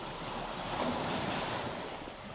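Sea waves wash against the white-sand Cape Verde coast, lined with palm trees. The surf makes a soft, even hiss that sounds distant and faint, with light wind and no voices.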